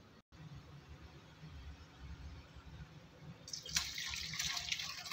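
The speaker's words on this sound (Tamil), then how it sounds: "இப்போ வந்து கிண்ணத்துக்கு ஊற்றிடலாம்." Paruppu rasam, a thin Tamil lentil soup, is poured into a bowl: a quiet liquid trickle that grows into a brighter splashing stream toward the end, with a faint low background murmur.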